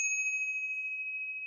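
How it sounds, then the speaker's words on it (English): A copper bell rings with one clear, sustained metallic tone and a fainter higher overtone, holding steady and close for the whole moment with no speech. "a copper bell."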